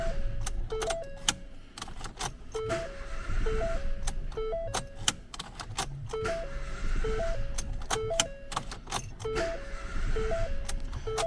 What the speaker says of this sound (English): what we're going to do is wind it over on the key, make sure the coil packs are unplugged